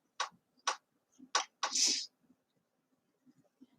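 A single sneeze bursts out after a few short sharp breaths or sniffs, followed by quiet faint rustling.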